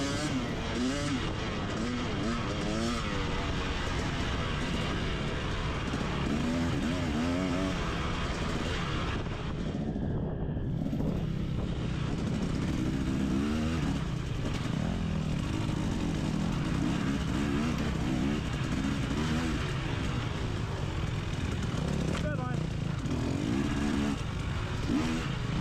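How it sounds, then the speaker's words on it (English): A two-stroke dirt bike engine screams and revs continuously through its power band during a cross-country race, loud and close throughout with the pitch rising and falling, and one brief dip. "I am loving being back on a two-stroke, just hearing that friggin' power band sing."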